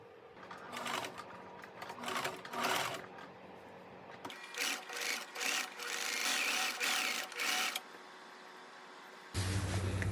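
A sewing machine stitches up both side seams of a dress sleeve, running in repeated bursts of steady whirring separated by short pauses, close and alone with no talk.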